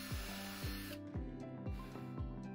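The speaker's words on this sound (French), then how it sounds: "Vous commencerez par utiliser le plus petit qui vous servira à faire un pré-trou." A power drill with a small bit bores a pilot hole for a window security fitting, its motor whining steadily with rhythmic pulsing surges about every half second, close and continuous, with no talking.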